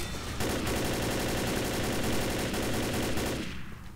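Rapid automatic gunfire shooting at a zombie horde in the game Left 4 Dead, a continuous fast rattle of shots for about three seconds, loud and close, cutting off near the end.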